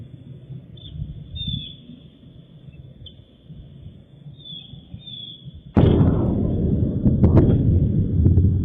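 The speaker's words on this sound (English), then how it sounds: "Oh, you want to hear the sonic boom?" A meteor sonic boom recorded outdoors: faint ambient rumble with distant bird chirps, then a sudden loud boom that rolls into a long sustained roar with crackling bursts.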